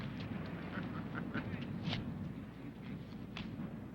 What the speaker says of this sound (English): Hey, the seagulls recognize me.